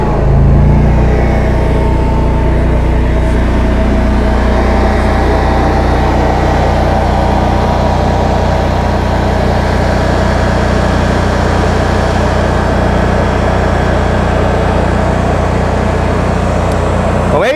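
A 2015 Cummins home standby generator with a load bank connected, loaded back up on a limited gas supply, drones with a steady, loud low engine hum that holds constant throughout with no talk over it.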